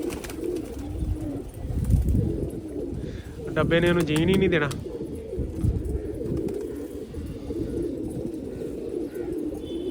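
Pigeons coo at a rooftop loft where racing birds are kept, a short burst of cooing rising in the middle of the stretch, while someone talks over the birds throughout.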